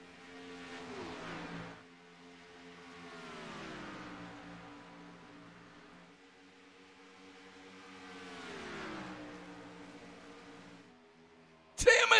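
Race cars roar around an oval track in the closing laps of an All-Star race, engines rising and falling in long sweeping passes, loud and continuous, with an announcer talking over the noise.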